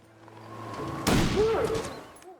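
A single sharp gunshot in a survival video game, a sudden close crack with a short booming tail amid quiet ambient game sound.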